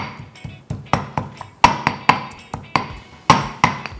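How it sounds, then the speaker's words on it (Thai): Garlic pounded in a mortar and pestle, a steady series of sharp, close thuds with a bright knock, roughly three per second, alone without talk. "โขลกกระเทียมก่อนนะครับ"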